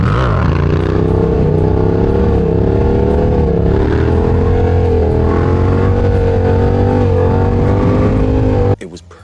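A Yamaha R1M motorcycle engine runs loud and steady while riding through Naples, its harmonic drone rising and falling slightly throughout before cutting off abruptly near the end, with a voice talking over it.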